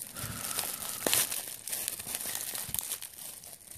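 Taped cardboard and plastic packaging of a Transformers Age of Extinction Deluxe Class toy being pried open, with close, continuous crinkling, crackling and tearing, a few sharper rips standing out.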